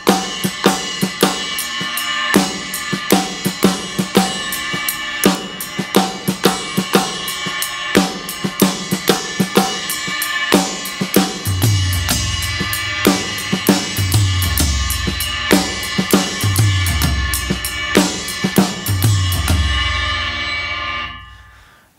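A drummer plays a verse fill pattern with the hands, striking a ride cymbal in a steady ringing pulse and then moving across the toms with deep rolling hits, loud and close with no talking.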